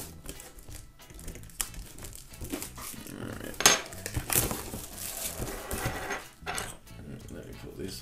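A cardboard box holding a Lindberg 1/24 scale 1937 custom Ford convertible model kit is cut open on a desk, with scattered crinkling, scraping and tapping up close while a person talks intermittently.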